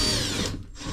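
A power drill runs loud and close for about a second, backing screws out of timber, its steady whine dipping briefly near the end.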